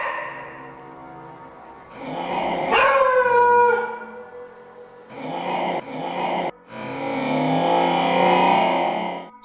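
A dog makes warning sounds toward a pantry, alternating drawn-out howling whines and tense vocal bursts separated by short silences, close and fairly loud.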